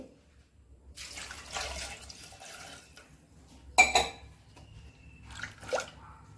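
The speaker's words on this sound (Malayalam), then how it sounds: "ആവശ്യത്തിന് വെള്ളവും കൂടെ ഒഴിച്ച്" Water pours from a vessel into a pressure cooker holding chopped carrots, a soft splashing fill that comes in a few short bursts with quiet pauses between.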